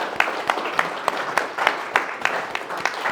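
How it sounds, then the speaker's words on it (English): Members at the Friends of King Alfred Buses annual general meeting give a round of applause, steady moderate clapping with distinct sharp claps standing out across the few seconds, heard from a modest distance. "Give yourselves, please, a round of applause."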